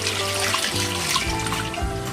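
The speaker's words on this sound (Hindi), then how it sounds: "और अब मैं यहाँ पे दूध डाल रही हूँ" Milk, 700 grams of it, pours from a bowl into a cooking pot for rasmalai: a steady, close liquid gush and splash that holds for about two seconds with no talk.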